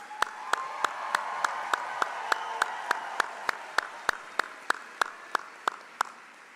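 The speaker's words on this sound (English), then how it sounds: "And one last round of applause for our graduates." A small group claps in a slow, even rhythm at a graduation ceremony, about twenty crisp claps over a soft background of wider crowd applause, fairly faint and without speech.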